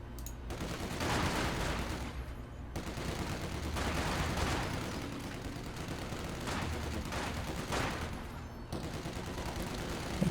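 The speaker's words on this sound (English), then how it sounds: "test the new Volksgrenadier with the MP40 upgrade, and you can see the icon it has there, versus conscripts at close range." MP40 submachine gun fire from Volksgrenadiers in Company of Heroes 2, fighting conscripts at close range. Bursts of automatic fire overlap in a dense, continuous fusillade, fairly quiet and unbroken throughout, with no speech.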